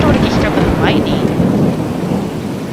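Heavy rain pours steadily in a video game thunderstorm, a dense loud wash with rumbling thunder underneath and no speech.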